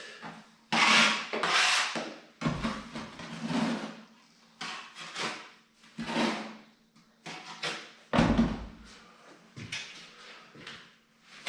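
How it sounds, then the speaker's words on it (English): A big sponge rubbing gently over Capa Fina plaster on a wall, making repeated soft scraping swishes in uneven strokes, close up with short pauses between passes. "Get a nice big sponge and just gently rub over the Capa Fina."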